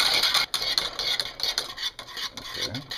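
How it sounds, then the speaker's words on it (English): A whisk scraping steadily through flour being added to simmering liquid in a pot, a rapid raspy stirring texture with brief pauses, close and fairly loud, no voices. "I'm going to start adding the flour to it. You want to just add a little bit at a time and just stir it, whisk it."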